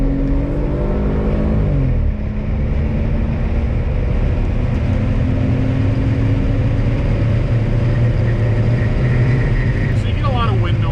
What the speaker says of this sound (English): So you get a lot of wind noise.